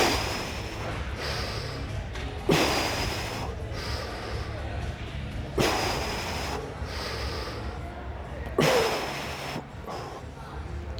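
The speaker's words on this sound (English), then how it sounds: "So we're gonna breathe out." Three strong, forceful exhalations spaced a few seconds apart, made while bracing the core during a low-back rehab exercise, each a breathy rush rising over quiet background noise.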